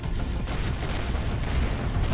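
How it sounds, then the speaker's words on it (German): Rapid gunfire strikes a ship in the space game Avorion, a dense crackling barrage with heavy low rumble that keeps going steadily for about two seconds, loud and with no talk. "Ah, ich werde beschossen."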